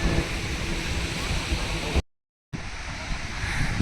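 Sea waves at Puri beach, a loud continuous roar of surf with wind buffeting the microphone, broken by a brief silent gap.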